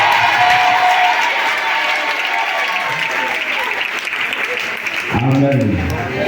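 A church congregation applauds and cheers steadily throughout, dense and loud clapping filling the space, with a voice rising over the crowd near the end.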